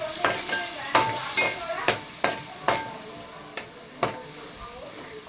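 A ground paste frying in oil in a pan for paneer biryani, with a steady sizzle and a run of sharp spoon scrapes and stirring clatters at an irregular pace, close and fairly loud.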